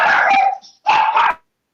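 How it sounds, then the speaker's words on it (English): Dogs bark in two loud, excited bursts close by, with a short gap between them, during a casual beer-tasting live stream. "The dogs go crazy when Shannon shows up."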